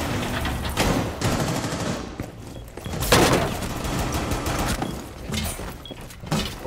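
Bursts of gunfire from a shooter video game, loud and close, with several rapid volleys and single cracks spread across the stretch.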